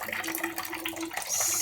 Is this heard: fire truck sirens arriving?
no